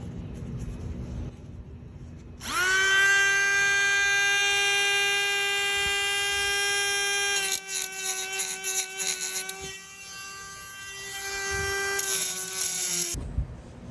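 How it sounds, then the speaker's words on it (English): Rotary tool grinding the edge off a metal part from an old barn-sale toolbox, a loud steady high-pitched whine with strong harmonics that holds for several seconds, then wavers and chatters as the bit bites before cutting off. "I'm just going to grind the edge off of that and grind the edge off of that so it goes in smooth"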